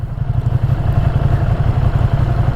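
Ducati V2 Streetfighter engine, 2022 model, pulling steadily while being ridden, a loud, continuous low rumble with a throbbing mid-range drone and no speech.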